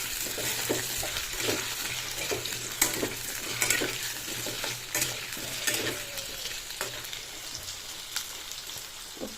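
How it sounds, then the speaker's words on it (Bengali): Potatoes fry in a pan while being stirred, a soft continuous sizzle broken by frequent scraping clicks of the spatula, close and steady. "সব আলুগুলো দেওয়া হয়ে গেছে, এবার এগুলোকে একটু লাল লাল করে ভেজে নেব"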